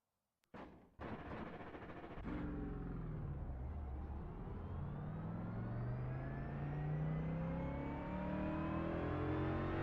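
Racing car engine in the Grid Rivals driving game revs hard under throttle after a couple of sharp bangs, holding a loud, steady rising roar with gear-like pitch sweeps and no talking.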